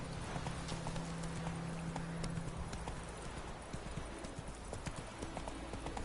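Horse hooves galloping in the Witcher video game, a fast steady clip-clop rhythm of hoofbeats over a dense background ambience, moderately loud, with no talk.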